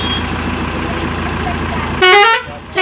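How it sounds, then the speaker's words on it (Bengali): Bus horn blaring loudly at a bus stand as the bus pulls in, a short toot sounding near the end after a stretch of steady engine rumble and nearby voices. "হরেন দিয়ে দিয়েছে"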